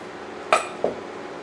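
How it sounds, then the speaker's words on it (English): Chunks of yuca set into a saucepan give two quick clinks against the pan, the first sharper and louder, the second softer, in a quiet kitchen with no talk. "Reduce heat to medium and carefully place the yuca in saucepan"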